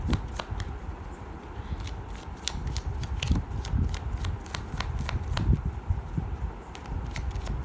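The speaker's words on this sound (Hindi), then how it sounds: "मैं शफल कर रही हूँ, आप मेडिटेट करें, रिलैक्स करें।" Tarot cards shuffled by hand in a steady run of soft riffling slaps and papery flicks, close and continuous, with no talking over them.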